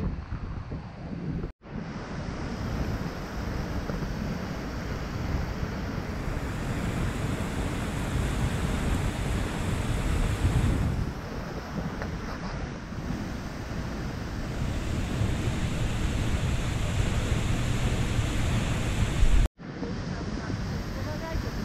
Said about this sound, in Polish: Jesteśmy teraz za wodospadem.